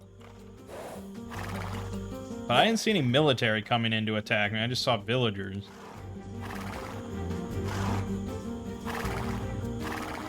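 A horse in Age of Empires II gives a loud, wavering whinny mid-clip amid repeated hoof clip-clops and game ambience, while someone talks over it.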